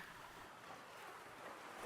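Soft, steady sea waves wash continuously in a broad, calm hiss, with a faint wind-like rush on open water and no voices.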